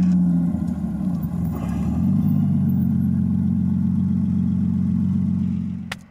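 A Porsche 911 SC safari car idles steadily with a deep, continuous low rumble, close by, then cuts off abruptly at the end.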